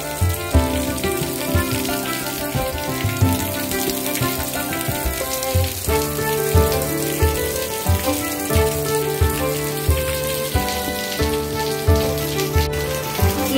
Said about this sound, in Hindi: एकदम जम के बारिश हो रही है